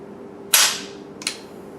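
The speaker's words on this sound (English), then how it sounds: "once it starts to go forward, there is no way to arrest this bolt" A bolt on an Egyptian Hakim rifle slams forward with one loud, sharp metallic clack, followed a moment later by a second, quieter clack, nearby with no talk.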